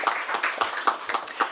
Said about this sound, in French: vous avez le droit d'applaudir dans la salle.